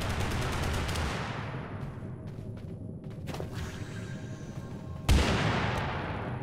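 Gunfire from a gun in the video game Totally Accurate Battlegrounds: a dense burst of rapid shots that rings out and fades, then a single sharp loud shot near the end.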